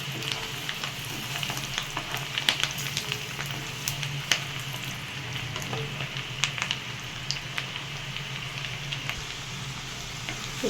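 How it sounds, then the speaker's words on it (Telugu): Chopped onions frying in oil in a pan for a brinjal chicken keema dish, a continuous close sizzle with scattered crackles and pops and occasional stirring, no talking. "ఉల్లిపాయ వేగిందండి."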